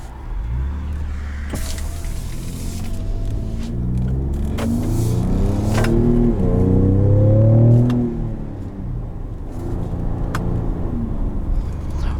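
A 2019 Ford F-150 Raptor's twin-turbo EcoBoost engine revs up in a steadily rising, loud rumble that peaks and then drops back to a low idle-like drone.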